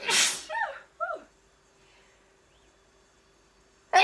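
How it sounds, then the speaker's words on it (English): A single sharp, close sneeze bursts out, followed by a few faint breathy sounds and quiet, then the start of another loud sneeze right at the end. "I'm gonna sneeze."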